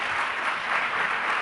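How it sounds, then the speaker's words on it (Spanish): An audience at an international conference on good practices with ICT applauds in a brief, even burst of clapping, heard from a moderate distance with no speech over it. "le damos un aplauso, por favor"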